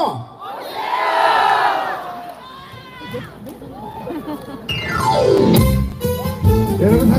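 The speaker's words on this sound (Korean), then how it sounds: "여러분 제가 청송으로 하면 오세요 크게 외쳐주십시오" A festival crowd at an apple festival shouts back loudly in unison to a singer's call, first a swelling roar, then a second surge of voices and cheering after the singer speaks.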